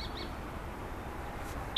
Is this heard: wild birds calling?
yes